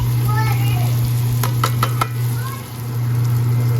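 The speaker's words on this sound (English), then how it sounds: "So rendering the bacon, I'm going to add the garlic now." Bacon renders in a pan with garlic just added, giving a steady sizzle over a low electrical hum, with a few light utensil knocks and a faint indistinct voice in the background.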